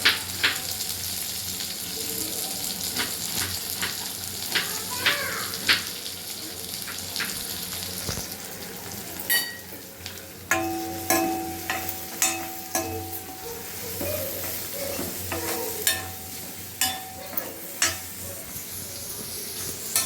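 Onion, garlic and curry leaves fry in a pan with a steady sizzle, broken by repeated clinks and scrapes of stirring throughout.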